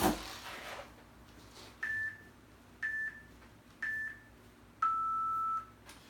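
A timer being set gives off four clear electronic beeps, the first three short and evenly spaced about a second apart, the fourth held longer, close and moderately loud in a quiet room.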